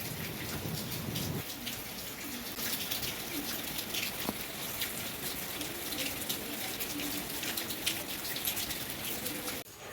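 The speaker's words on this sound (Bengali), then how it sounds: "রাত্রে আবার বৃষ্টি আরম্ভ হয়ে গেছে।" Rain falls steadily outside at night, a soft, continuous patter of drops on surfaces heard faintly and evenly throughout, with no one talking.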